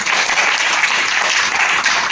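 Loud, dense applause from an audience at a product results sharing event, steady and close for about two seconds with no speech over it.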